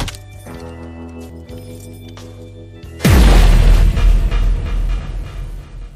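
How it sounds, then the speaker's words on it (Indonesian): A single booming gunshot sound effect from a film bar scene cuts in sharply after a stretch of tonal music, then rings out in a loud, rumbling decay. "Manito pun yang khawatir dengan keselamatan wanita tersebut, ia pun dengan segera mendorong wanita itu untuk melindunginya dari lesatan peluru yang dilepaskan oleh Tavo."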